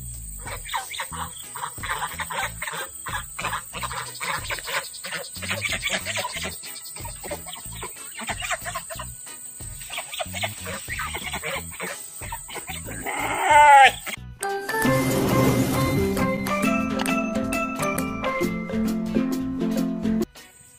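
Two geese, a white one and a grey one, call at evening feeding time in a farm pen, giving loud, repeated honks and cackles up close, with a burst of harsher, sustained calls near the end.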